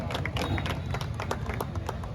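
An audience at a Bharat Milap award ceremony in Tilthi gives brisk, close applause, with many overlapping claps in a dense patter and faint voices mixed in.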